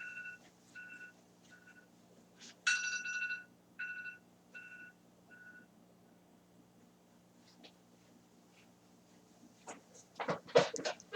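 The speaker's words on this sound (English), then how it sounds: "Let me go shut off that timer." A phone timer goes off quietly indoors as a run of short, evenly spaced electronic beeps over several seconds. It stops, and faint handling and rustling noises follow.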